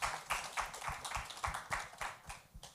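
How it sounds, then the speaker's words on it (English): Small audience greeting a panel introduction at a music industry talk with sparse, distinct hand claps in an irregular rhythm, faint and distant, each clap sharp and separate rather than blending into a roar. "round of applause."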